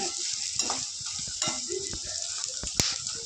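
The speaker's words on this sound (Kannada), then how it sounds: "ಇವಾಗ ಇದು ಫ್ರೈ ಆದ ಕೂಡಲೇ ನಾನು ಬೆಳ್ಳುಳ್ಳಿ ಹಾಕೋತಾ ಇದ್ದೀನಿ" Garlic sizzles and fries in hot oil in a pan for paper poha (avalakki), a steady crackling hiss broken by stirring clinks and scrapes of a spoon against the pan.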